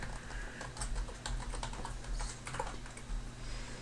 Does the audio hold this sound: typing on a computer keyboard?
yes